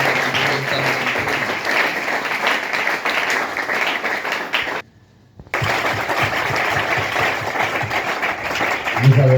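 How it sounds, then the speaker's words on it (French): Church congregation applauding and cheering in acclaim of the Lord, a loud sustained burst of clapping that cuts out briefly near the middle, then resumes just as strongly. "Est-ce qu'on peut encore acclamer le Seigneur?"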